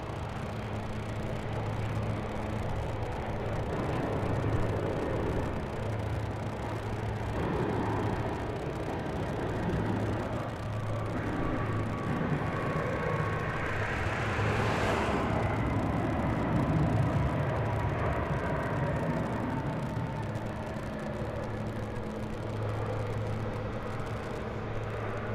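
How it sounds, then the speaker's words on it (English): An American Airlines Boeing 737-800 arriving at DFW Airport gives a moderate, continuous jet rumble with a low steady hum and a brief hiss swelling near the middle, fairly distant and without talk. "here comes a flight from Cleveland, Ohio. Flight 1590 American Airlines. It's a 737-800."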